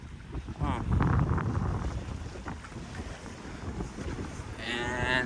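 Wind rushes across the microphone aboard a sailboat off San Diego, California, a loud broadband gust swelling early, then a steadier whoosh with faint water and rigging sounds.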